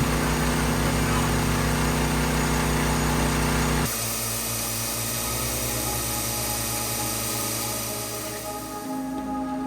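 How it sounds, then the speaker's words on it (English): A steady electric milking machine motor hum runs throughout, loud and close, with its pitch and texture shifting partway through as the machine's rhythm changes. "Here's the sound compared to our electric milk machine."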